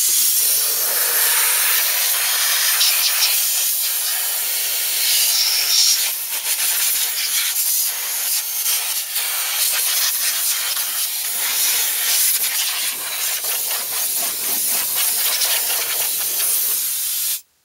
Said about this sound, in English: get an air hose and blow all the dirt from around those uh, spark plug holes there